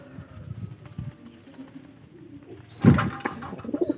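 A blorok pigeon coos during its courtship display, low throaty rolling calls repeated near at hand, with a louder burst of flapping or scuffling in the middle followed by more cooing.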